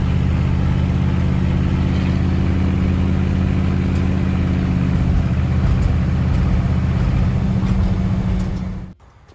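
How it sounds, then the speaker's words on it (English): A 1950 Buick engine fitted with a Holley Sniper fuel injection runs steadily and loudly while the car drives, a strong low drone that holds nearly the whole time before cutting off abruptly near the end. "I don't think this engine has ever driven this nice ever."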